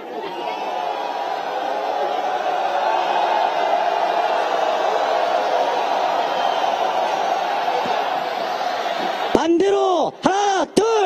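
Large crowd at a candlelight rally in a city plaza roaring and shouting together in a sustained wave of cheering, followed by a few loud, sharp electronic tones at the end.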